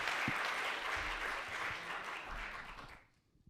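An audience at a panel discussion gives a warm round of applause, steady and fairly distant, fading out abruptly near the end.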